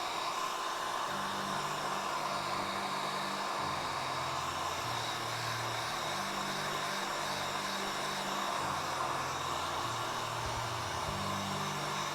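A hair dryer blows steadily in a close, continuous whoosh while drying the weathering on a painted miniature, with a faint low hum that shifts slightly in pitch.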